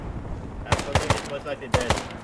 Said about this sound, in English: We've got mortars landing basically almost directly on top of us currently.